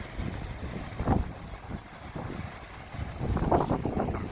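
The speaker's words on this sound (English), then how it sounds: "It's just windy." Wind on a beach buffets the microphone in a steady low rumble, with louder gusts swelling now and then; no voices.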